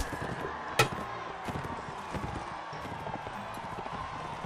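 Horse hooves clopping in the medieval combat game Mount & Blade, a faint steady trot under ongoing game noise with one sharp impact partway through.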